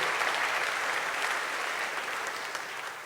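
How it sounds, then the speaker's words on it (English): Dense, even audience applause at an interview event, a continuous wash of many hands clapping at moderate distance, slowly easing off. "Let's give Michelle a big round of applause."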